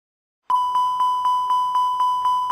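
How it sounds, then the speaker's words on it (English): An Airbus ECAM master warning chime sounds continuously and repetitively on a flight deck, a clear loud tone struck about four times a second after a short silence. "You hear a continuous, repetitive chime and see the master warning lights flashing."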